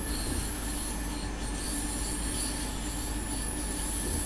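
An S-Bahn commuter train in the Train Simulator 2 game rolls along steadily, its wheels squealing and rubbing on the rails with a faint clickety-clack, loud and continuous throughout with no talking.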